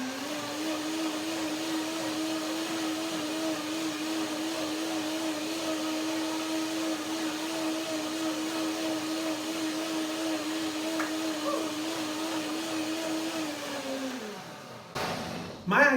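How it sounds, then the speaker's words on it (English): A blender whirs steadily at high speed through a cashew banana dressing, a loud constant motor drone that holds for about fourteen seconds before spinning down and stopping with a clatter. "I will do a second blender dance to get the right texture here."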